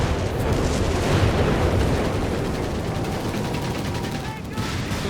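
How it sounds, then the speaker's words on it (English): Dense gunfire and explosions from a Company of Heroes 3 battle on the front line around a Sherman tank, loud and continuous, with a caster talking over it. "Guns blazing. Shots fired, shots flying off the front line of the Sherman here"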